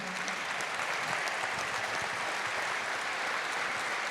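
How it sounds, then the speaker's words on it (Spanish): Steady applause from a crowd at a book launch, a dense wash of clapping that holds at an even level throughout. "quiero pedirle un aplauso muy especial"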